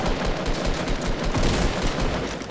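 Close, fast gunfire from a Fortnite match crackles in a continuous stream of overlapping shots, steady and loud throughout.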